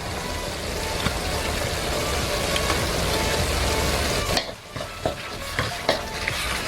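Ground beef sizzling in a pan with soy sauce and fish sauce added, a dense continuous frying crackle that briefly drops off near the end, followed by a few stirring clatters.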